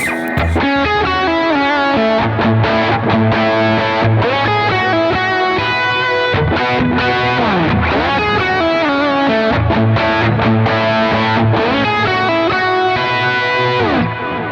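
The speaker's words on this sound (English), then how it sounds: "So it's a beautiful sounding overdrive." Electric guitar through a JET Pedals Lamb overdrive plays a dense run of single notes and bends, loud and saturated throughout, with no talking.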